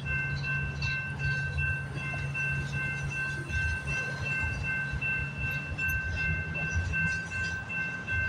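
CN M382 freight train rolling through Delray Junction, a steady low rumble of railcars with a sustained tonal squeal above, heard from a moderate distance without talk.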